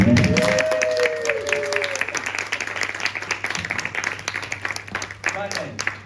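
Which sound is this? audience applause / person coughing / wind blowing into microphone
audience applause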